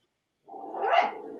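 A dog gives a single short, muffled bark or growl from close by, with quiet before it.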